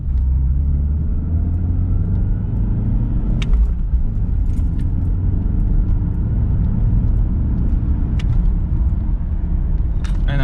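A BMW E46 pulls hard with a steady, loud low engine drone heard from inside the car, with a few brief clicks and rattles over the top.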